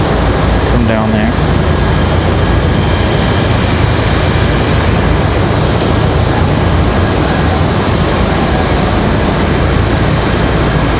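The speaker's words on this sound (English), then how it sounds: "this is A220 coming in from Albany, Breeze Airways" A Breeze Airways Airbus A220 arrives from Albany at Raleigh-Durham, its loud, continuous engine roar filling the whole stretch, with a brief tonal whine early on.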